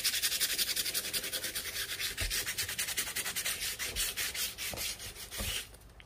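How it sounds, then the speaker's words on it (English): Sandpaper rubbed back and forth over a small carved wooden gnome, a steady rhythmic scratching of quick close strokes with a few soft knocks, no talk. "let's take a little piece of sandpaper"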